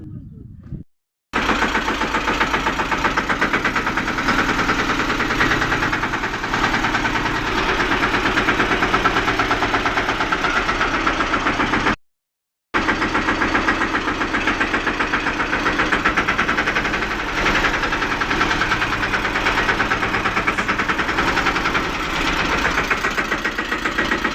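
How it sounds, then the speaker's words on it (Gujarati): A diesel tractor engine catches after a moment of quiet and settles into a loud, close, rhythmic knocking idle, briefly cutting out midway before running on. "ચાલો ટ્રેક્ટર ચાલુ કરીએ"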